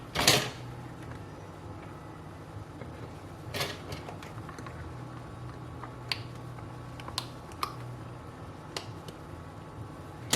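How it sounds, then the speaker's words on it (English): Plastic lids are pressed and latched onto egg bite molds, giving scattered faint clicks and snaps with a louder clatter at the start and a few sharp latch clicks spaced apart. "So now I'm gonna put the tops on them. Make sure they're all latched."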